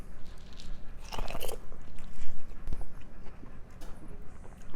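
Smoked chili corn on the cob being bitten and chewed up close: sharp crunchy bites followed by wet, uneven chewing with pauses, loud and intimate, no talking.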